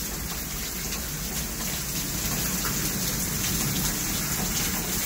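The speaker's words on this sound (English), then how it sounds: "Blinding rain. Forrest Gump. Big old rain." Heavy rain pours down outdoors on a hard-rain day, a dense steady roar of falling water that stays loud and constant throughout with no voices.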